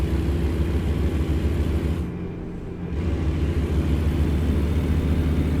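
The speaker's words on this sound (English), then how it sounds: "it definitely sounds different. We're used to the sound of the engine" Truck engine in American Truck Simulator drones steadily with a deep, low rumble that dips briefly to a quieter lull midway, then returns to full strength, with no voices.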